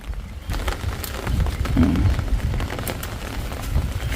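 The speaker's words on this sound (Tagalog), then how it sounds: "Biglang lumakas ang ulan." Heavy rain pours steadily outdoors in a garden plot during the rainy season, a dense continuous hiss that swells midway and runs alone without talk.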